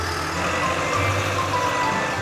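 A construction truck in a cartoon reversing, with a steady engine rumble and faint high beeping under it, continuous and close, with no talk.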